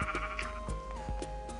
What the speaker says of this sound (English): there's a sheep, the evil zombie sheep